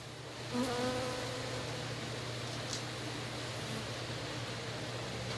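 A steady, droning hum of buzzing bees fills the air, dense and continuous, with a low mechanical tone underneath and no voices.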